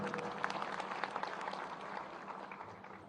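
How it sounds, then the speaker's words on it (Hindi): A crowd claps for farmers at a public gathering with a Union minister speaking, a fairly quiet but dense and continuous patter of many hands heard from a distance. "इनके लिए भी एक बार तालियां बजाइए।"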